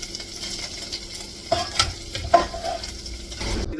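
Breaded calamari for a Korean fried calamari dish frying in a pan, a steady sizzle with a few sharper crackles and spatters rising midway through.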